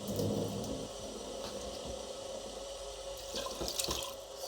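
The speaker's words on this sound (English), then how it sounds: "And I'm going to whisk it with hot water." Hot water pours steadily into banga palm-nut cream being whisked for traditional Edo black soup, a continuous splashing, trickling stream that sounds close and runs throughout without talk.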